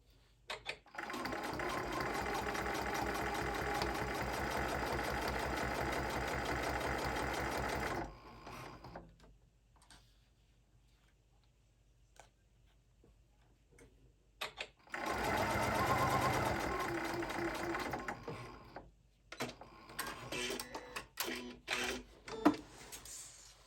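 A sewing machine stitches a zipper onto a bag in two long, loud, steady runs with a quiet pause between them, followed by shorter bursts and clicks toward the end.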